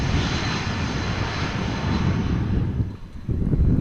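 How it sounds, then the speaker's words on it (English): A Delta Airbus A330 lands at Amsterdam Schiphol airport in crosswind conditions, its engines a loud, broad, steady roar with wind noise that softens briefly near the end before rising again. "the saddest landing of an A330 of Delta we've seen so far"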